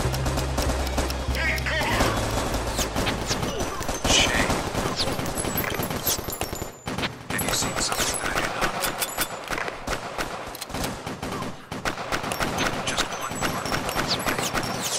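Rapid gunfire in the PSVR shooting game Crisis Brigade, dense bursts of machine-gun and pistol shots crackling almost without pause, with players talking over the action.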